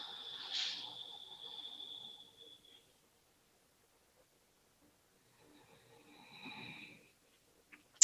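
Ujjayi breathing through the nose in a shoulder-stretching yoga flow: two soft, hissing, slightly throaty breaths, one long draw followed by a pause, then a shorter one, close and quiet in near silence.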